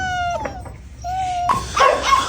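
Young puppies, a grey male and a black female, whimper in thin high whines, then break into a burst of yips and yelps that grows louder and busier toward the end.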